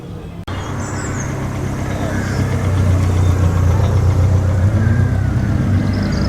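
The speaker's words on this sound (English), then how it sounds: "Next up in the line of cars arriving here at Gawsworth Hall today." Classic cars arriving at a show at Gawsworth Hall, a steady engine drone growing slightly louder as vehicles roll past outdoors, with voices and crowd murmur underneath.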